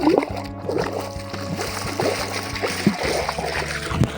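Water pours from a pipe elbow into a swimming pool, a steady splashing and trickling with gurgles close by, plus a few louder splashes toward the end.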